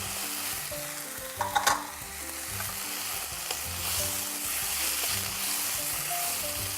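Chunks of small red potato fry and get stirred in a pan, a soft continuous sizzle with a few sharp scraping clicks early on, then a fuller, steadier crackle.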